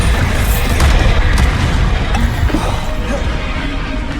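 Booming spell blasts from the Bombarda explosion charm in Hogwarts Legacy, a dense rumbling barrage of loud bursts over continuous battle noise with no clear pauses.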